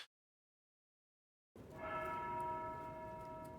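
A village video game sounds a church bell, a single resonant toll with a long ringing decay that follows a brief silence.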